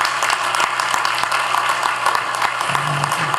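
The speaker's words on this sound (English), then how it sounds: "That deserves a round of applause." A crowd at a State of the City address applauds, with a loud, sustained patter of many hands and a few sharper individual claps throughout.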